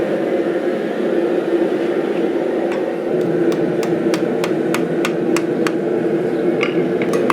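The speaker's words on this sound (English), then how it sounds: "flip back to the blade, and we're going to forge out the bevels" Steel hammer blows forging the bevels on a fantasy sword blade, a fast run of sharp metallic strikes starting midway through, heard over a loud steady roar of forge or machinery.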